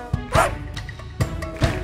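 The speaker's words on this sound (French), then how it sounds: "Le petit chien, petit chien, petit chien." A little dog barks in a French nursery song for babies, two short bursts of yapping barks set against a bright musical backing.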